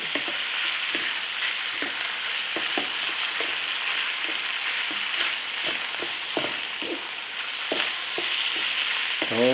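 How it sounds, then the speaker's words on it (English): Steak and noodles tossed and stir-fried for a beef stir fry, a steady close sizzle with repeated scraping and clacking strokes of the utensil against the pan, no voices. "now let's add back our steak. Let's toss the coat."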